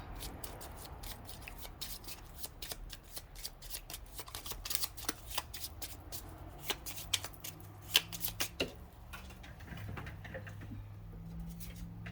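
Oracle cards being shuffled by hand, a close, fairly quiet run of rapid flicking and riffling taps with a few louder snaps, then softer handling at the end.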